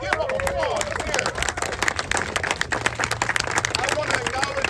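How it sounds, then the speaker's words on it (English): A crowd claps and applauds at an outdoor ribbon-cutting ceremony for the Del Rio Trail in Sacramento. Steady scattered clapping runs throughout, with murmuring voices underneath. "So, give up applause here."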